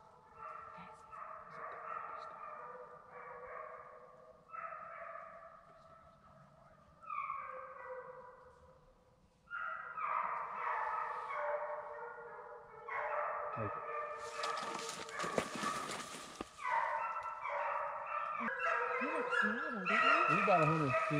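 Hunting dogs on a South Carolina deer drive bark and yip in repeated bursts, a pack calling near and far through woods, with people talking over them and a brief loud crackle midway.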